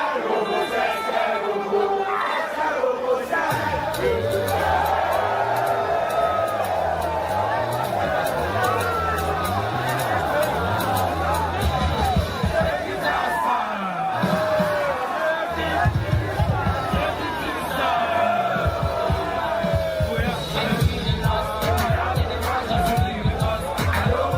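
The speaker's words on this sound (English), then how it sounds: "the thunderous cheer of the crowd" A large concert crowd fills the whole stretch with a dense, loud roar of cheering and hubbub, with many voices blending into continuous babble.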